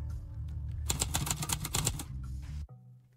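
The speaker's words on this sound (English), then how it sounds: "The typewriter shit is annoying" Typewriter-style text clacks from the video game Apocalypse Run, a dense burst of rapid key strikes in the middle that then trails off into quieter taps, with steady game background tones underneath and no talking.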